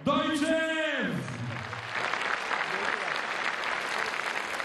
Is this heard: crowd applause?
yes